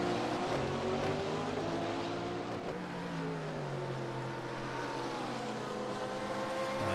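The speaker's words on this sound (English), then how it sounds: "Here comes Paul Holt in the McLaren." A McLaren GT3 race car at Suzuka in a racing game, its high-revving engine roaring continuously, with a falling pitch as it passes and other engine tones layered underneath.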